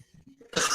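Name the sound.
cough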